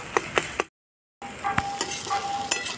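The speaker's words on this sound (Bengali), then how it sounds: "ডিমটা একসঙ্গে লেগে গেছে, খুন্তি দিয়ে কেটে ছোটো ছোটো পিস পিস করে নেব" An egg fries in a pan for egg chowmein while a spatula chops it into small pieces, giving a soft sizzle and several sharp metallic scrapes and clinks, close and alone.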